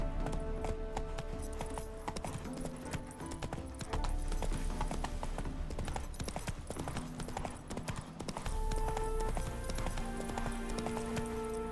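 Horse hooves clip-clopping at a gallop in The Witcher 3 game, a dense continuous drumming of hoofbeats over a busy background of game sound and music, with occasional snorting.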